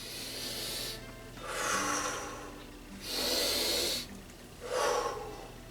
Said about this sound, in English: Just take 2 big deep breaths.